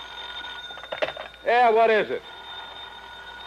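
An old telephone rings in a classic detective radio drama, one loud sustained jangling burst after a brief voice and some handling clatter, then quieter room tone.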